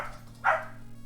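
A dog gives a single short bark, mid-loud and slightly distant, standing out briefly over a steady low indoor hum with no talking.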